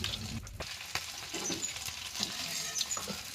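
Fish fry in hot oil with a steady, close crackling sizzle, broken by a few soft clicks and pops, with no voices.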